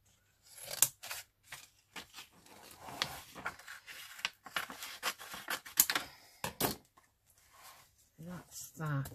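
Scissors cut paper for a collage, close crisp snips in irregular bursts with quiet gaps between cuts.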